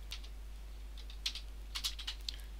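Typing on a computer keyboard during a Blender 2.80 tutorial, a short run of light, close key clicks in small uneven clusters over a quiet steady hum.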